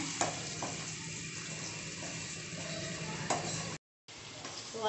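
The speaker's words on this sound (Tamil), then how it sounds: "வதக்கிட்டுக்கிறேன்." Ginger paste sautés in a pan over a steady, continuous sizzle, with a few brief stirring scrapes and a short break of silence near the end.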